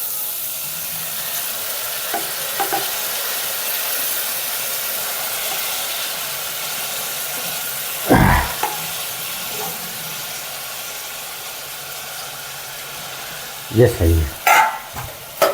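Rice is tipped into a pan of paneer and stirred over a steady loud sizzling hiss, with a few thumps and scrapes of the spoon; a voice speaks briefly.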